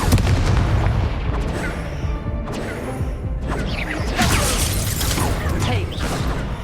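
A Confringo blasting spell in the Hogwarts Legacy video game bursts with loud explosive crashes and booms amid dense continuous combat noise, several sharp impacts standing out through the clip.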